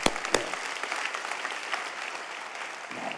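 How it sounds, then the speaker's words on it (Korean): A church audience claps steadily in a dense, even patter of applause, moderately distant and fairly quiet, with a couple of sharper claps at the start. "우리도 한번 박수해야 돼"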